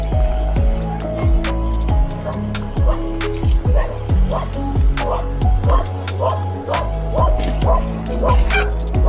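A dog barks repeatedly in a steady series of sharp, close barks, with some yips mixed in and faint background noise.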